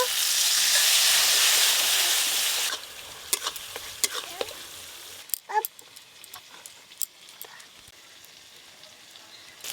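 Ground paste of cashew, poppy seed and melon seeds frying in oil, a loud hissing burst as a little water goes in, then quieter sizzling with sharp spoon scrapes and clicks as it is stirred close up.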